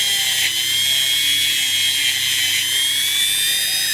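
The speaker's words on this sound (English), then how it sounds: "there is some rust in around there, so I'll run over that quickly with the Dremel" Steady high-pitched whine of a Dremel rotary tool grinding rust off a music box clock wheel, continuous and fairly loud with slight dips as contact changes, no speech.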